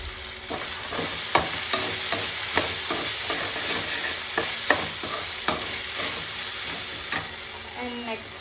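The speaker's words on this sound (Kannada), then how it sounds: "ಸೊ ನೆಕ್ಸ್ಟ್ ನಾನು ವೆಜ್ಜೀಸ್ನ ಆ್ಯಡ್ ಮಾಡ್ತಾ ಇದ್ದೀನಿ." Vegetables and peas stir-fried in a pan for South Indian style fried rice: steady hot sizzling with evenly spaced spatula scrapes and taps, close and prominent, with no talk.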